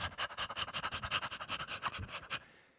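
A dog pants in quick, steady rhythmic breaths, close and fairly loud, for a couple of seconds before trailing off.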